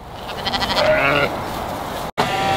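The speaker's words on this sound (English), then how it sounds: "so we've got a few left here in the pen behind now" Sheep bleat in a pen before shearing, with a loud, wavering bleat up close followed by a second shorter call after a brief cut, over background barn noise.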